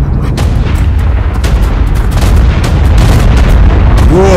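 Scatter cannon shells exploding in ARK: Survival Evolved: loud, rumbling booms and bursts of in-game gunfire pile up continuously, with a short rising tone near the end.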